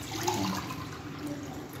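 Yakhni stock poured into soaked rice for Hyderabadi chicken pulao, a steady close splashing and gushing of liquid lasting about two seconds with no talk.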